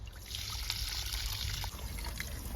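Water trickles and splashes steadily as shark fish is rinsed clean in a kitchen, a close, continuous wet dribbling with faint clinks and no talking.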